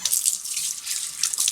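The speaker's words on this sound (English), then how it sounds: "I'm going to run the water" A sink tap runs, its water hissing and splashing steadily into the basin up close for a brief moment, with no one speaking.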